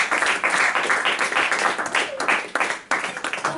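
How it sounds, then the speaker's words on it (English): An audience claps in a steady, dense round of applause that carries on throughout without a break. "let's give Mason a round of applause for being our president"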